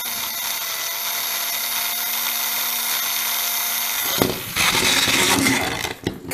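A custom TrackMaster Thomas toy train with a fast motor whirs steadily with a high, buzzing electric hum, close and continuous, shifting to a rougher, louder rattle partway through as it runs.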